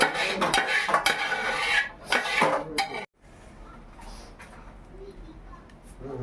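A metal pot of food is stirred on a low flame in a Kerala family home kitchen. Clattering scrapes and clinks are loud at first, then fade to quieter background sounds, with voices speaking nearby.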